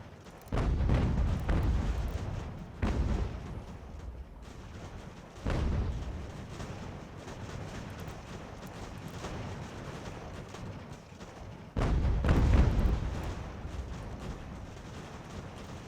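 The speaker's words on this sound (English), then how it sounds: "This artillery's really doing a number on them." Artillery bombards Fort Ticonderoga in Ultimate General: American Revolution. Four deep, heavy booms land several seconds apart, each with a rumbling tail, over a steady low battle background.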